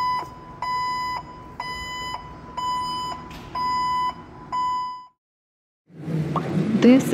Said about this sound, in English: This is a forklift.